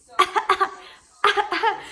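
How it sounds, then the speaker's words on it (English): A six-month-old baby gives short fake coughs in two clusters, three or four quick bursts each, close and clear with a short pause between the groups. "he fake coughs now, which is hilarious"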